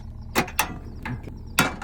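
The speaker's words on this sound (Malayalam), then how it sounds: "അടുത്ത പണി നമുക്ക് സിലിണ്ടർ കണക്ട് ചെയ്യാം" A gas cylinder being connected for camp cooking gives a handful of sharp, close metallic clicks and knocks, spaced irregularly over a faint low hum, with no voices.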